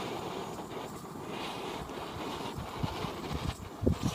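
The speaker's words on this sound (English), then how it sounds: "It's fairly windy." Wind gusts at a beach camp on a wild island, a soft, fairly faint rushing with low buffeting. Toward the end come a few brief knocks and rattles.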